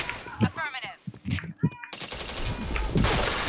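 Rapid gunfire from the video game Point Blank crackles in a dense, sustained burst during the second half, after a stretch of excited talk and short game effects.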